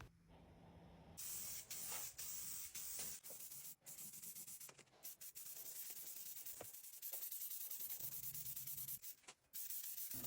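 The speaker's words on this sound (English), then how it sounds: "This is why I love using Oleum spray paint." Rust-Oleum spray paint hissing from an aerosol can onto a vintage Coca-Cola cooler, in steady close bursts of varying length with short pauses between them.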